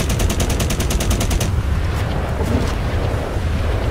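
Rapid machine-gun fire in GTA 5, loud and steady for about a second and a half, then cutting off into a rumbling, noisy scene with a few scattered sharper reports further back.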